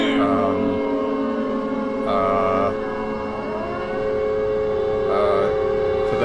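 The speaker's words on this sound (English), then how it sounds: "the air raid siren is to signify for the bad stuff to go to the other world" An air raid siren wails in the Silent Hill town of Alchemilla, a steady droning tone with layered pitches that holds throughout and swells and dips in brief stages.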